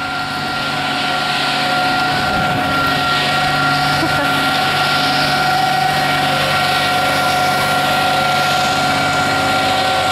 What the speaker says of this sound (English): Hey, we got a cement truck.